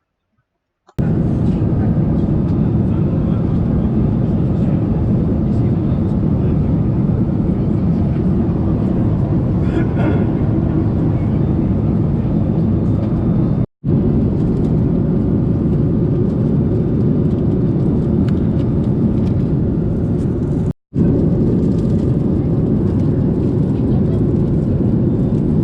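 Steady, loud airplane cabin drone during a long-haul flight from the UK to Varadero, Cuba, a continuous low roar and whir with two brief cut-outs, no talking.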